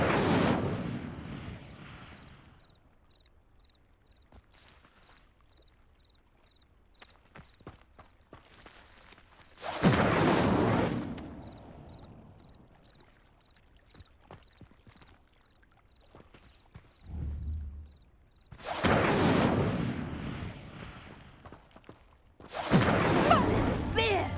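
An Incendio fire spell ignites pyres in the video game Hogwarts Legacy with four loud, roaring whooshes of flame, separated by quieter stretches filled with faint footsteps and small noises.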